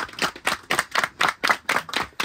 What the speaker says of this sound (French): J'aimerais qu'on les applaudisse, s'il vous plaît.